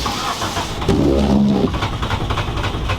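A race car engine being built for Shasta Speedway cranks over after a long sit and catches, running rough with a steady, uneven mechanical roar and a brief tonal whine near the start.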